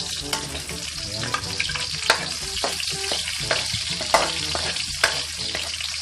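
Onions frying in a pan for Filipino adobo, a dense continuous sizzle with scattered clicks and scrapes of stirring, loud and close, with no talking.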